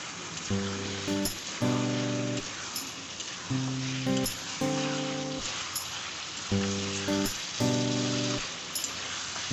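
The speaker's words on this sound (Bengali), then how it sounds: "আলুগুলো দিয়ে আরো কিছুক্ষণ কষে নিতে হবে।" Mutton and fried potatoes sizzle in a pan for a mutton potato curry, a steady broadband frying hiss running the whole time, while tonal music plays in repeating bursts over it.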